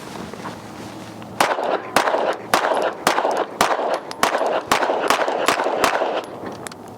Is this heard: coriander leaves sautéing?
no